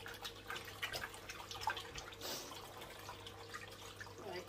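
Hand-spun knitted wool swished around in a basin of water, giving faint, soft sloshing and dripping sounds in a quiet room with no talking.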